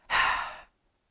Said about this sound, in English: going to go through a couple rounds of Simha Pranayama, or lion's breath